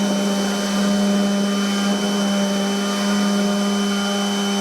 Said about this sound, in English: then we have the spindle fan, which we can toggle on or off, and I'm just going to crank that up